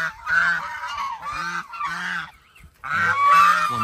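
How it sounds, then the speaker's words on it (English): Geese in a rural yard in Tarlac, Philippines, honk loudly and close by in a run of harsh, nasal calls, with a short break before another burst of honking. "I'm starting to think they might be geese, but they don't fly at all."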